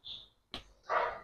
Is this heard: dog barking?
yes